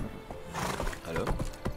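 Roach, a mare given a voice, neighs in The Witcher 3: Blood and Wine, with a short whinny and hoof clip-clops up close over game ambience and faint background talk.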